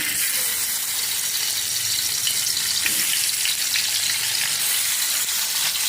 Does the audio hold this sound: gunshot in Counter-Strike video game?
no